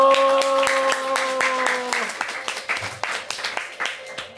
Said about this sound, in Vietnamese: một tràng vỗ tay thật to và dành cho Đức